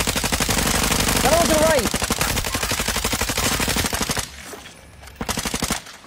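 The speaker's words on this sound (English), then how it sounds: "Let's shoot him together." Rapid bursts of video game gunfire crackle loudly and continuously for about four seconds, then break into short separate volleys, with players talking over the shooting.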